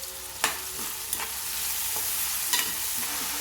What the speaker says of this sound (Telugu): ఉల్లిపాయలు బాగా ఎర్రగా వేగితే